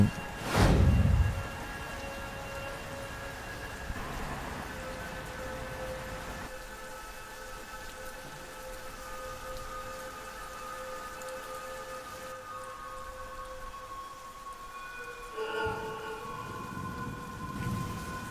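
Steady rain hisses throughout, heard from inside an open funeral pavilion beside a wall, with a low thump near the start and faint tonal hums running underneath; no voices.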